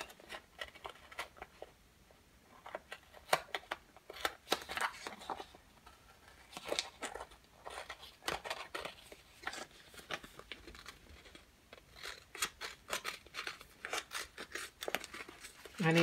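Repeated crisp snips and paper rustling in irregular bursts, close by and fairly quiet, with occasional soft speech-like sounds mixed in.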